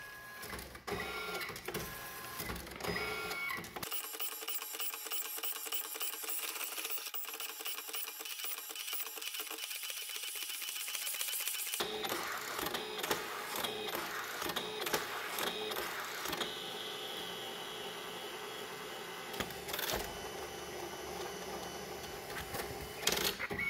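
A printer runs continuously, turning out decals for a vintage 1988 Tamiya Avante radio-control car body, with steady mechanical whirring and rapid clicking of the print head and paper feed, close and alone without talk.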